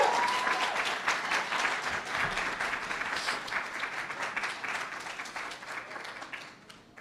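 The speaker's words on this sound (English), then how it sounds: "please join me in giving all of our participants another round of applause" A seated audience at a public speaking competition gives a sustained round of applause after a speech, with dense clapping that slowly fades over several seconds.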